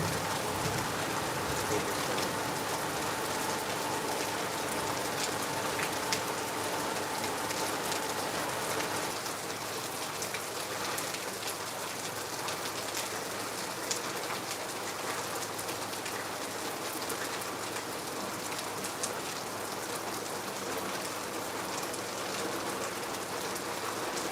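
Steady rain in Lagos, hours into a downpour, as a dense, even hiss of drops on surfaces continuing without a break throughout.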